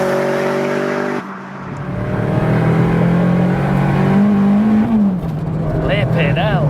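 A highly modified MK1 Seat Cupra with a big turbo and over 500 BHP runs loud and close, its engine droning steadily with rising and falling revs and a whistling turbo note, while people talk over it.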